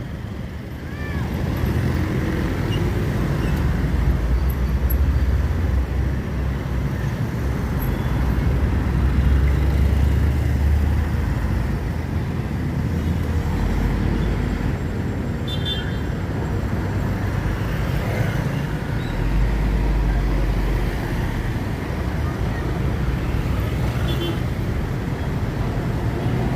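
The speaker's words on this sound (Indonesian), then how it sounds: "Ada satu unit bus terjebak macet di belakang." Heavy traffic jam with a bus and trucks at the entrance to Palembang city, a continuous low engine rumble and road noise that holds steady throughout, with a voice talking over it.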